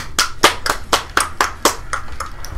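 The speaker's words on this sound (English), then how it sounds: "Everybody clap your hands!" Loud, close hand claps in a fairly steady rhythm, about ten sharp claps with a slight room echo, no voices.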